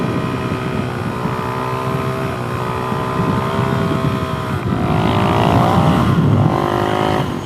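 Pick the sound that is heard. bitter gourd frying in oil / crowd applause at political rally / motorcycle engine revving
motorcycle engine revving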